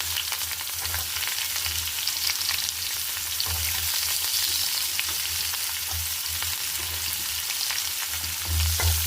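Onion fries in hot oil with cumin, mustard seeds and bay leaf, a loud, continuous crackling sizzle with steady popping and a low rumble throughout, without speech.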